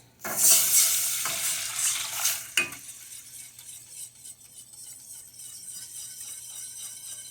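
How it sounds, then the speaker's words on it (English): Cold broth pours into a hot roux for brown gravy with a loud burst of sizzling and bubbling, followed by quieter steady stirring and scraping of a utensil against the pan. "So our roux is hot right now, so that means my broth should be at least cool or cold. So we're going to go ahead and add this in."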